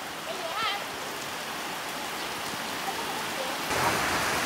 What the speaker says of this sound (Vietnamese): Rồi trời mưa to, anh em ra tắm mưa nha.